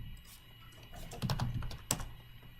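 Someone types on a computer keyboard to give input to a running Python program. A short, quiet burst of keystrokes comes up close, with one sharper tap near the end.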